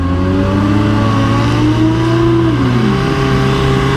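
A 2022 Suzuki Hayabusa engine held at a steady high-rpm launch hum at the drag strip, loud and close, with a rising, sweeping tone near the end and no voices.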